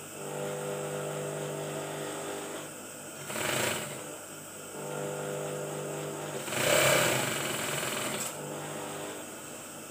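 Sewing machine stitching the shoulder seam joining lining and outer body of a short-sleeved batik shirt, a steady close whirring hum with two brief louder bursts as stitching speeds up.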